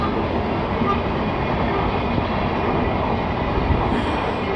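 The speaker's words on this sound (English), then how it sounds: "we all know about the trains at my favorite reading spot" A train rolls past close to an outdoor reading spot, a loud, steady broadband rumble with rail clatter that fills the whole stretch without letup and with no talk over it.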